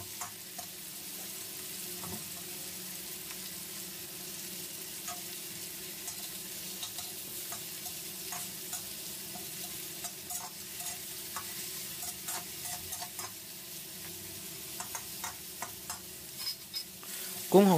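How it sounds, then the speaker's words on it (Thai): Shrimp stir-fried with garlic in a pan, a steady low sizzle with frequent light scraping and clicking of a utensil turning the shrimp, close and continuous with no speech. "นี่นะครับผัดให้หอมกับกระเทียมก่อนเลยครับ"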